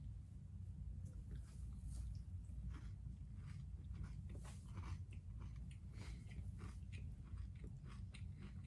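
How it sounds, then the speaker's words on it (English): A Nature Valley chocolate peanut butter creamy protein bar with a crispy wafer is chewed close to the mic, giving soft repeated crunching bites over a low steady hum. "And we're going to eat them right now. Let's do it. Let's try the chocolate peanut butter first."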